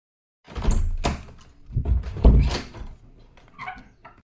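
Banging on a door, a few irregular thumps and knocks heard close, with a dog whimpering in between.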